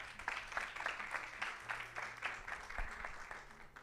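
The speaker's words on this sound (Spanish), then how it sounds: "Un aplauso" Audience applause at a scientific conference, a short burst of steady clapping from a seated crowd in a hall, fairly close and lasting throughout.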